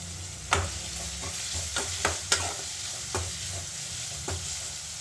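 Onion and green chilli fry in a pan for paneer sukka, giving a steady close sizzle with occasional sharp scrapes and taps from a stirring spoon.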